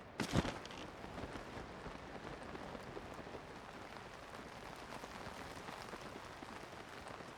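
Rain falls in the video game Tears of the Kingdom, a soft, steady hiss of drops pattering on surfaces, faint and even throughout after a brief louder rustle at the start.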